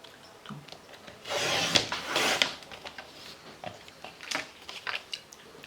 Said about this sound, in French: je vais raboter 1 cm de chaque côté